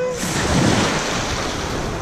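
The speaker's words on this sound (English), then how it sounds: "Checking out the ocean." Ocean surf washing in at a resort beach, a steady broadband roar of waves close by with wind noise on the microphone, and a brief voice at the start.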